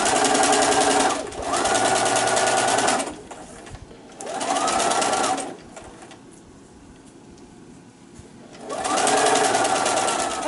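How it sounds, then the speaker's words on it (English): A sewing machine runs in three bursts as it stitches a quarter-inch seam down the long edge of a pillow cover, each steady motorized whir separated by short quiet pauses. "you'll pin it and sew a 1/4 inch seam allowance down the long edge."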